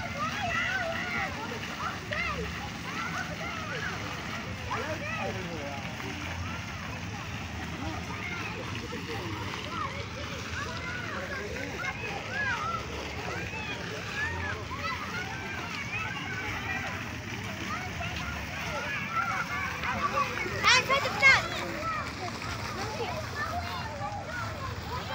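Water splashing and sloshing in a hotel swimming pool at an outdoor cabana water park, a steady wash of churning water with voices and children's chatter running throughout.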